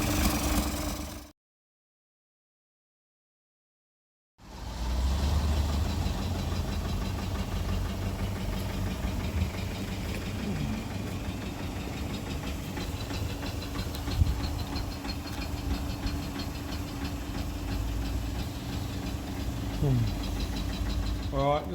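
A 2015 Toyota Prado with the 1KD-FTV diesel idles steadily with a knocking engine note, close and continuous, broken by a short gap of silence near the start.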